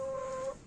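A hen, one of a small backyard flock of domestic and Adler laying hens, gives a single brief, clear, tonal call, close and alone.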